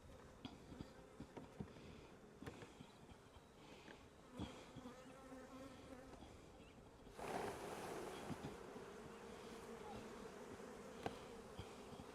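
Honey bees hum and buzz from an open, strong hive during an inspection, a steady close drone that swells louder partway through, with occasional clicks and knocks of handling.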